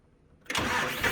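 A John Deere 5055D tractor engine cranks on a weak battery: a brief quiet gives way to a sudden, loud, close burst of harsh cranking that holds steady to the end.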